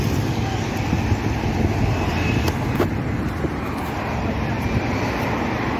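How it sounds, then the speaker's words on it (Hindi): Steady road traffic from vehicles passing near a bridge, a loud continuous rumble and hiss that fills the whole stretch, with faint voices under the noise. "अभी गाड़ियों का आवाज़ आ रहा होगा"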